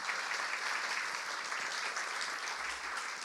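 Steady, warm applause from an indoor evening audience welcoming an author onto the stage, evenly sustained clapping at moderate distance with no talking over it.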